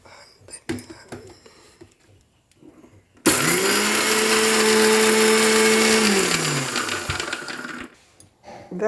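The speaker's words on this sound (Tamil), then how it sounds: "எடுத்துட்டு மிக்சியில் போட்டு பூண்டு, உப்பு இது 3 எல்லாத்தையுமே போட்டுடலாம்." A mixer grinder whirs loudly for several seconds, grinding garlic, dried chilli and salt with a steady high motor whine that drops as it winds down, preceded and followed by quiet talking and handling noises close by.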